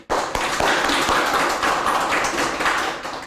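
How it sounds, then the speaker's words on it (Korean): Brief burst of audience clapping for the organisers of a unification academy event in Daejeon, dense and fairly close, starting abruptly and running steadily to the end. "박수 한번 해주세요."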